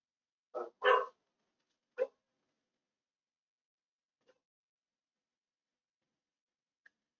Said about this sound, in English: The one that barks at everything is infecting the very quiet dog, so that now they both bark.